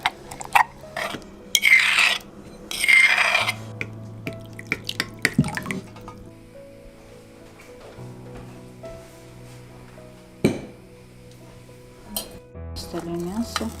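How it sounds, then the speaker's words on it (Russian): Cold water goes onto walnuts for a garlic-walnut sauce. Short pours and splashes alternate with drips and faint kitchen clatter, and a few sharp taps stand out near the end. "Добавить холодную воду, чтобы орех разбух."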